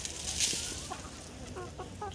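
Soft chicken clucks and a few short calls from a rooster amid a noisy farmyard of free-ranging hens eating dry bean leaves, with scattered fowl vocalizations near and far.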